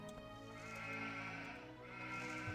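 Sheep bleating at a sheep farm in the strategy game Anno 1503, a steady bleat over dense, continuous game ambience and music, moderately loud throughout.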